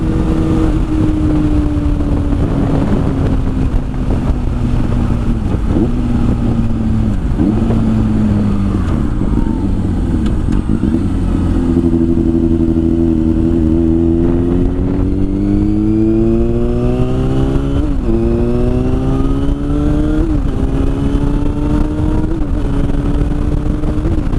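A 2009 Yamaha FZ6 motorcycle with a 98-horsepower engine accelerates hard through several gears, its loud, close exhaust note rising and dropping repeatedly as it revs up and shifts, steady and continuous with no talk.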